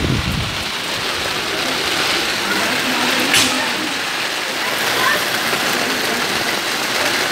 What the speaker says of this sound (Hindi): बहुत ज़बरदस्त बारिश लगी हुई है